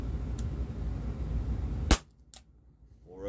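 A Walther PPS M2 airsoft pistol from Umarex fires a single sharp, loud blowback shot, a snappy crack followed by a short metallic clack, standing alone with no talk.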